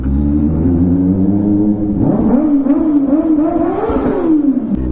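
A Kawasaki ZX-4R motorcycle engine revving inside a tunnel, loud and close, with a steady drone that rises into a wavering, climbing rev, echoing and sustained throughout.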